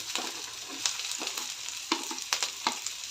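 Okra and onion fry in hot oil with a steady close sizzle, broken by several sharp scrapes and clinks of a spatula stirring the pan.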